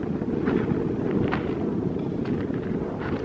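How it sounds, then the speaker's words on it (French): Wind blows steadily across a Death Valley crater, buffeting the microphone in a constant low rumble with no voices. "Il y a un peu de vent."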